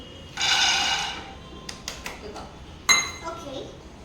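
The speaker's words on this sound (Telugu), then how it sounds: "ఇట్లా డ్రైగానే వేయించుకోవాలి పల్లీలు." Peanuts dry-roast in a kadai on the stove with a short rattling rush, then scattered metallic clinks and taps of a spatula against the pan while someone talks.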